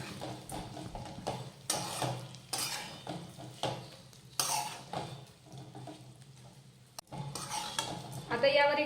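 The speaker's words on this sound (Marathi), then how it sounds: "आता ही भेंडी परतून घेऊयात तेलावर थोडीशी" Okra is sautéed in oil in a pan, with a spatula scraping and clattering against the metal in uneven strokes over a faint sizzle, and a short pause before the stirring picks up again.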